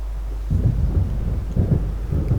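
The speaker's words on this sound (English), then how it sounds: "It seems there's a storm coming." Thunder from an approaching storm in the game Alan Wake rolls in low and heavy, a deep rumble swelling in two or three close waves over a steady dark drone, with no voices.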